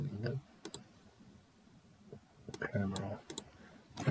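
A few clicks of computer keyboard keys pressed one at a time, brief separated taps with a pause between groups, while a person speaks nearby.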